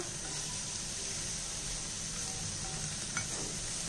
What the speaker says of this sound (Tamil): இப்போ இதையும் நல்லா வதக்கிடணும் அதுக்கடுத்து கருவேப்பிலை போடுறோம்ப்பா